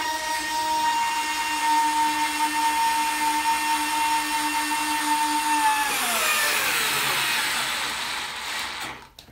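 A Würth AS 4 / Bosch GO 2 cordless screwdriver drives a 6x80 screw. Its steady motor whine holds for several seconds, then drops in pitch and strains under load before stopping at the end.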